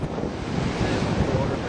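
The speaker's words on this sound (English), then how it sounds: "Waves are nice." Ocean surf rolls steadily onto a windy beach, with gusts buffeting the microphone in a constant broadband roar and no voices.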